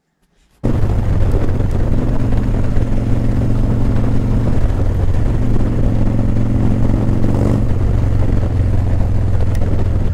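A motorcycle engine starts up abruptly and then drones steadily while riding, a loud, close, continuous low rumble with slight shifts in pitch and no talk.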